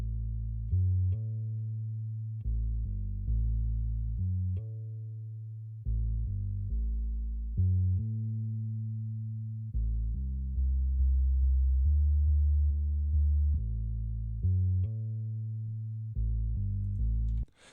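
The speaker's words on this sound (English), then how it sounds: "So you can hear that's actually Moto bass." Soft fingerstyle electric bass from MODO BASS run through AmpliTube plays a steady line of plucked notes with a few pauses, loud and alone without any voices.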